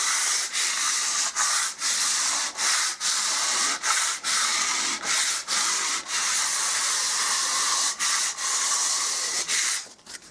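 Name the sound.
light sanding of filler on a wall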